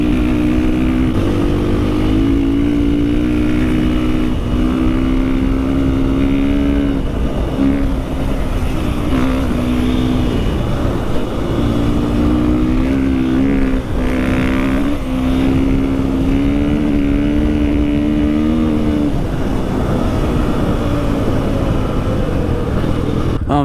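A 500cc enduro motorcycle fitted with an Akrapovic exhaust is ridden hard, its loud engine droning steadily with repeated throttle surges and revs rising and falling up close for the whole stretch.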